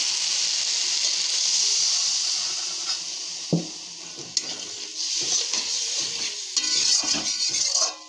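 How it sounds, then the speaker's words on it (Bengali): Water is poured into a pan of fried spice paste, the sizzle shifting as it hits, followed by a utensil stirring and scraping with occasional metallic clinks. "এখন এখানে দিব পরিমাণ মতন জল"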